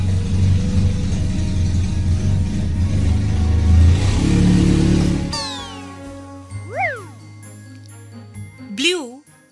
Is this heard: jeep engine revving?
yes